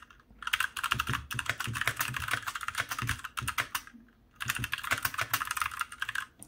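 Typing on a compact mechanical RGB gaming keyboard with Cherry Brown switches, steady bursts of close, crisp key clacks with two brief pauses, no talking.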